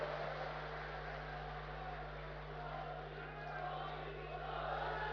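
A large crowd at a political rally for the Prime Minister in Churu, Rajasthan claps and cheers in a dense, steady roar that holds at a distance for the whole stretch, with no gaps or single voices standing out.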